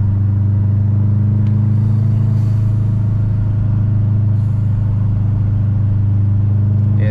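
Subaru car heard from inside while driving, its engine giving a steady, low, droning rumble that stays constant throughout with no voices.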